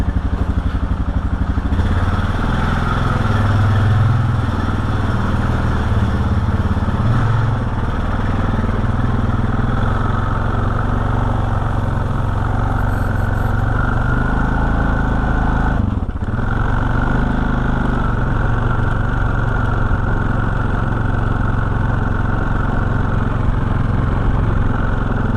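A Honda 420 engine idles steadily and close for a long stretch, with occasional rises in throttle and a slight mechanical clatter underneath.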